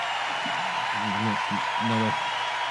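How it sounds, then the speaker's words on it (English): Applause from a live rock concert crowd, heard as a steady wash of clapping, with a voice murmuring briefly over it. "I'm guessing it's just clapping now."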